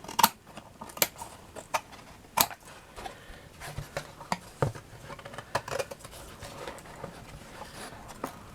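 Scissors snipping small pieces for a craft shadow box, a series of close, crisp cuts at an irregular pace with light handling rustle between them.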